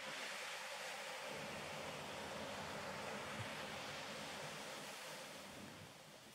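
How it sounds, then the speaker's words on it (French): Steady broadband rush of ocean surf, continuous and fairly even, easing slightly toward the end, with no voices. "Au fil du mouvement des vagues"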